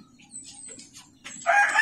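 A rooster crows on a rural farm in Antipolo, Rizal, a short nearby call that rises loud near the end over quiet background, with faint clucking earlier.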